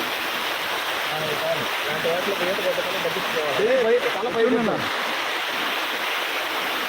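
Steady broadband rush of flowing water from the Kushasthali river, continuous and fairly loud, with people talking over it in the middle.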